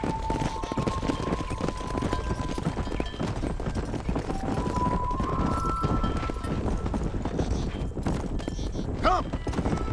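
Horse hooves clip-clop at a run in the Red Dead Redemption game, a steady galloping patter under a busy outdoor mix, with riders' voices calling out over it.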